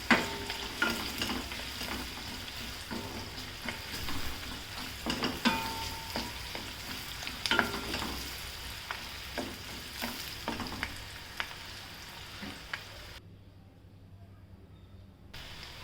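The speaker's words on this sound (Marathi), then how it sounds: "कांद्याला चांगलं परतून घ्यायचं." Onion and curry leaves sautéing in a pan for rajma masala, a continuous close sizzle with frequent spoon scrapes and clicks, fading to quieter frying near the end.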